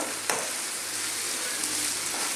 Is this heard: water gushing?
no